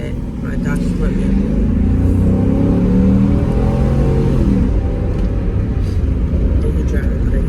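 A car drives along a road, heard from inside as a loud, steady low engine and road rumble with some revving, with a person talking over it.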